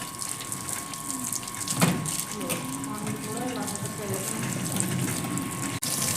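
Water runs from a pipe with many joints in a steady, hissing gush, while a voice is faintly heard underneath partway through.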